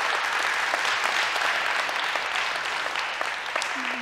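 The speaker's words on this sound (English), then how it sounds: "Give God a hand clap of praise." Church congregation clapping in praise, a dense, steady wash of applause filling the room from start to finish.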